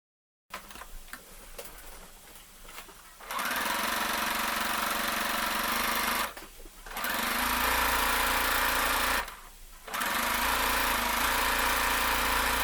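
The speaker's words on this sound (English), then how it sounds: "Now let's get sewing." A sewing machine stitches a skirt hem in three long, steady, whirring runs separated by brief pauses, close and fairly loud, with no talk.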